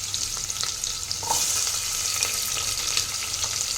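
Onion and bay leaf frying in hot oil with cumin, a steady close sizzle with a louder crackle burst partway through, alone without talk.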